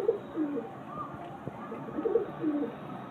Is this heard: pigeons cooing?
yes